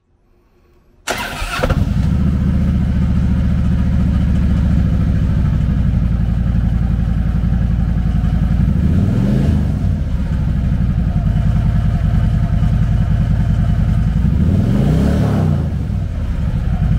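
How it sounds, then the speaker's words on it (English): A 2013 Harley-Davidson Tri Glide Ultra Classic Anniversary trike with a 103 cubic inch V-twin starts up, then idles loud and close with a steady lumpy rumble and two short throttle revs. "Powered by a 103 cubic inch V-twin motor, the TriGlide puts 101 foot-pounds of low-end torque through a 6-speed transmission."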